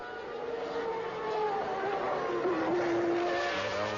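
Formula 1 car racing at the 1993 Brazilian Grand Prix, a high-pitched engine whine sliding up and down in pitch as cars pass, steady and moderately loud for several seconds.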